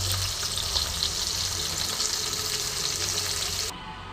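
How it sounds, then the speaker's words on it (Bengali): Small rohu fingerlings frying in mustard oil in a pan, flipped to cook the second side, give a loud, dense, continuous sizzle that holds steady throughout and eases slightly at the very end. "আর কিন্তু আমি সর্ষের তেলে কিন্তু মাছটা ভাজছি"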